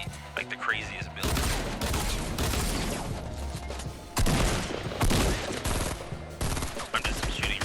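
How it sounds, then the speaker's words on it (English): Gunfire in Fortnite Chapter 1 Season 5: loud, dense bursts of rapid shots come in two long stretches with brief pauses between them, and a voice talks faintly at the start and end. "I'm just shooting random shots."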